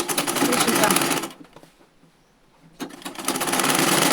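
A sewing machine stitching down the slits of a high-low blouse, running loud and close in a steady whir, stopping for about a second and a half, then starting again.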